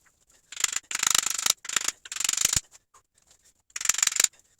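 A Subaru alternator is pried and pulled apart by hand, giving several short bursts of scraping, clicking metal sounds with quiet gaps between them, close up and with no one speaking.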